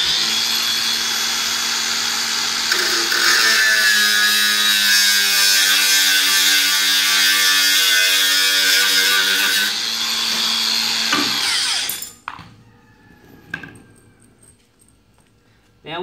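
An angle grinder cuts into a horse stable panel with a ply divider, a loud sustained whine lasting about eleven seconds before it cuts off and spins down, leaving faint clicks and near silence.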